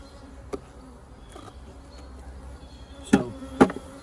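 Honeybees buzzing around an open hive during an inspection, a faint steady hum with a few sharp knocks and clicks from the hive parts being handled.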